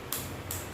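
Worn CV axle on a car turning fully in reverse, giving a short rhythmic clicking in two quick bursts over a steady low drone, close by with no talking.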